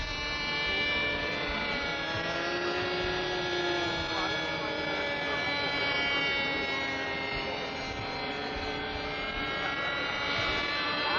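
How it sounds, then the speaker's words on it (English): A helicopter maneuvers in S-turns at a 1995 New Hampshire Flying Tigers air show, its steady engine and rotor drone heard from a distance as a continuous, even roar that holds for the whole stretch. "What you see the helicopter doing now, just maneuvering in sort of an S configuration"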